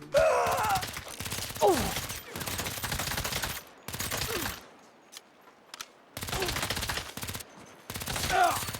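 Gunfire from Saints Row reboot gameplay, bursts of rapid automatic shots in loud clusters separated by short quiet gaps, with game character grunts and groans mixed in.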